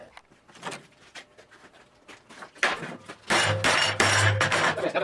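Hammering and prying on a test weld until it breaks, with scattered light metallic taps and clinks early on, then heavier, louder strikes and a sharp crack near the end.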